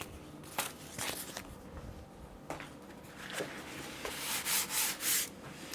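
Rough rubbing strokes of sandpaper on a surface, irregular at first, then a run of several louder, rhythmic passes close by.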